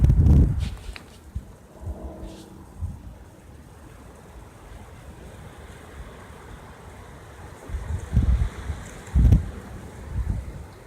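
Wind rushes and buffets against the microphone outdoors, a steady low rumbling roar that swells into heavier gusts toward the end, with no voices.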